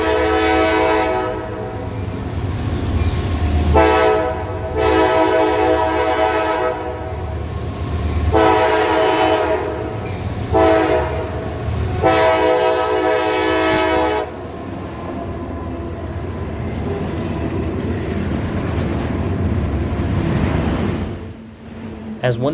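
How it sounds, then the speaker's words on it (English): A northbound intermodal freight train sounds its horn through a small downtown in a series of long and short blasts, loud and nearby, over the steady rumble of rolling railcars. "one last train blowing its horn through town"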